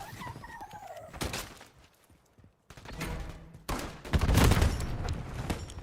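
Automatic turret fire in a military shooter game: bursts of heavy gunfire crackle across the scene, broken by a brief near-silent gap, with dense loud volleys swelling toward the end.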